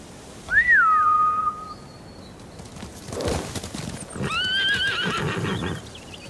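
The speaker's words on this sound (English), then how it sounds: "Bastards scared off the horses." Horses whinnying in the video game Ghost of Tsushima: a loud, high neigh near the start, followed by a rush of hooves and a second, fainter whinny as the horses gallop off.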